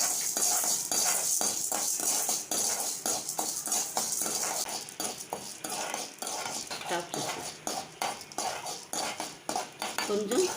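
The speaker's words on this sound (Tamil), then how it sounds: "கொஞ்சமாக எண்ணெய் விட்டு முதல்ல உளுத்தம்பருப்பு, கடலைப்பருப்பு 2ஐயும் சேர்த்துட்டு பொன்னிறமாக வறுத்துக்கணும்" Urad dal and chana dal roasting in a little oil in a pan, with steady stirring scrapes and clinks of a spoon against the pan under a soft hiss, sounding close and continuous.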